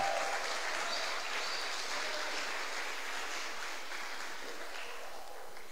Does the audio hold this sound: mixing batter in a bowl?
no